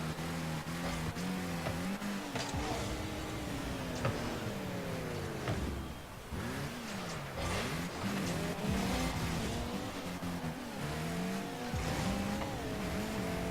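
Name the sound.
cars driving and skidding in eSports video game match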